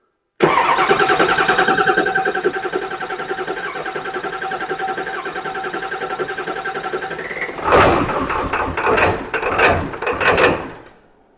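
A 2002 Ford F350 truck that was running poorly is started by jumping the starter at the battery terminal: a loud steady starter crank for about seven seconds, then the engine catches with several rough, uneven revving bursts before dying away.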